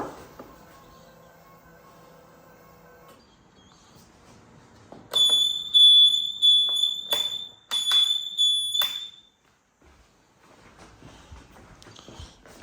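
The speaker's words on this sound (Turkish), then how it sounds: "sinyal verdiğimizde ve yan ayaklığı açtığımızda tabi gıcık bir ses çıkıyor" A high-pitched electronic turn-signal warning buzzer on a TVS Jupiter 125 scooter beeps in a few sustained bursts with short gaps, loud and close, preceded by a faint lower tone and quiet handling noise.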